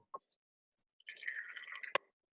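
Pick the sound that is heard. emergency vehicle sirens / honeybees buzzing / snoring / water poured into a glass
water poured into a glass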